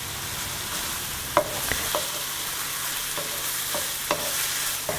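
Ginger, garlic, green chilies and curry leaves stirred into softened onion in a frying pan for chicken curry: a steady sizzle with several sharp spatula scrapes and clinks against the pan, no talking.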